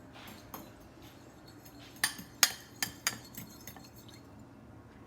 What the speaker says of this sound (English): So you will incorporate those. And then 20 grams of soy. And that is your glaze. Just mix it up like that.